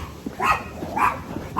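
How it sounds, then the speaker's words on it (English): Several dogs in the neighborhood bark outdoors at a distance, with a few separate yips and barks in a loose, uneven rhythm. "I guess this entire neighborhood owns fucking dogs."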